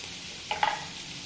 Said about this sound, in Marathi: आता हे मी थोडा वेळ झाकण ठेवून त्याला परतून घेते